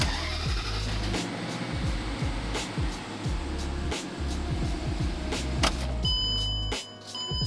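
A Mercedes SL55 AMG engine idles inside a closed garage, giving a steady, deep rumble with a constant mechanical whir. The sound stays continuous and close for several seconds.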